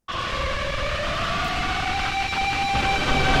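Wailing siren cry of the Siren entity in the Roblox horror game Apeirophobia, a loud, sustained tone with a slowly rising pitch over a droning, noisy rumble, heard alone.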